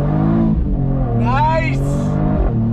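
A 2022 Mercedes AMG E53 pulls hard from a dead stop in first gear under manual shift, its engine note rising steadily and loud from inside the cabin, with a shift-like break midway and a voice over it.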